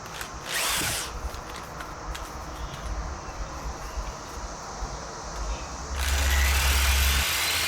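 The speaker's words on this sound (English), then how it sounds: "I'll make do with the hand drills that I have on hand right now." A handheld power drill runs in short loud bursts at the start and again near the end, with quieter workshop noise between, during work on a Harley Sportster Ironhead motorcycle.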